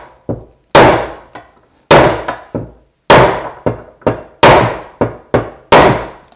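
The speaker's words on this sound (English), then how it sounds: "I make a whole circle and hammer it still a bit more." Bearing being hammered into the front wheel of a Bülk velomobile, a series of sharp, loud metallic-wooden strikes in irregular bursts of single and double blows, each ringing briefly before the next.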